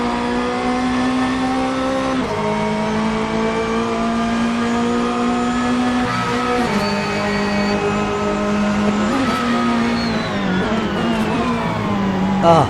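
A Corvette Z06 GT3.R race car engine in Assetto Corsa, loud and steady as it holds high revs, with the pitch dropping at each gear shift and climbing again, heard alone without talk.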